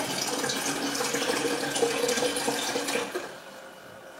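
Water running steadily from the spout of a Berkey gravity filter into a container in a kitchen, a close continuous splash that stops abruptly near the end.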